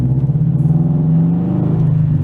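A Chrysler 300's engine rumbles steadily nearby, a low, continuous drone that swells slightly as the car goes by.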